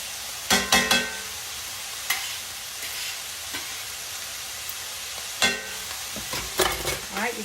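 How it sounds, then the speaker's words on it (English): Hamburger meat and chopped vegetables with onions sizzling in a pan while being stirred, a steady frying hiss broken by a few sharp scrapes and clanks of the spoon against the pan, close and without speech. "you're going to stir those around just a little bit so that the onions kind of wilt down just a little"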